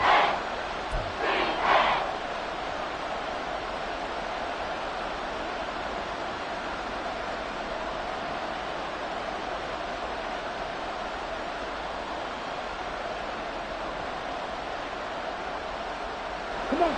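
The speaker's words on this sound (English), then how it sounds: "the crowd getting into it as we come up on a big 3rd down" Football stadium crowd roaring ahead of a big third down late in a close game, a steady, dense wash of distant cheering that holds loud and even throughout.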